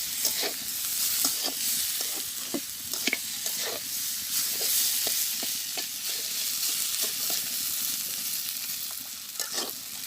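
A Bengali vegetable chorchori curry fries in oil in a pan, with close sizzling under a rhythmic series of spatula scrapes and stirring knocks repeating throughout.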